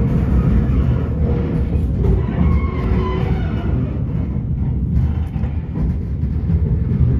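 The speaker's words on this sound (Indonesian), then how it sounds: "untuk kereta Progonya belok ke jalur 1" A Progo passenger train rolls through a station in Indonesia while switching onto track 1, giving a steady, loud low rumble of wheels and carriages that runs throughout with no pauses.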